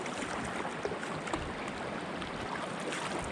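Canoe paddled hard on a remote wilderness river, a steady broadband wash of water and wind noise with a few faint knocks, continuous and fairly quiet, no talking.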